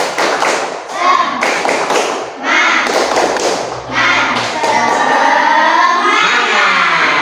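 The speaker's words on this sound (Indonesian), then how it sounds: "Tepuk semangat." Schoolchildren standing in a classroom beat out a rhythmic spirit clap, tepuk semangat: a quick patterned series of loud claps and taps, followed by a burst of mixed children's voices.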